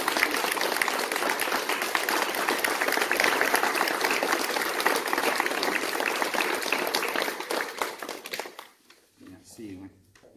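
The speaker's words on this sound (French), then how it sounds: "on va vous applaudir et vous remercier" An audience claps steadily and loudly for a retiring village doctor at his farewell gathering. The applause is dense and sustained, then fades out near the end, and a voice starts speaking as it dies away.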